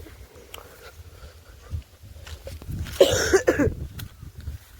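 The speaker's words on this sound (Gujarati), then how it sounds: "ઉધરસ થઈ ગઈ છે" A man coughs in a short, harsh burst partway through, near and fairly loud, outdoors on a village farm with quiet surroundings before and after.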